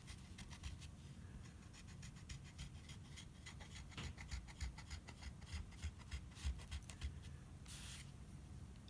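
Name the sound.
burnishing stained glass foil with back of a knife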